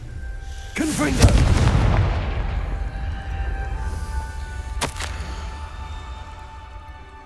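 The Confringo fire spell in Hogwarts Legacy explodes with a deep, booming blast, then rumbles away, and a second sharp crack lands a few seconds later.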